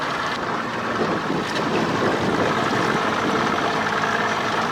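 An old outboard boat motor on a weedy lake runs at full throttle in reverse, producing a loud, continuous engine roar mixed with churning water and wind noise, steady throughout with no talk.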